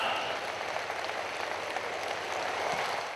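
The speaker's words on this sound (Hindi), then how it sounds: "आपकी भरपूर तालियों में" An audience applauds for the Prime Minister at a public event, a steady wash of clapping that holds for a few seconds at moderate distance.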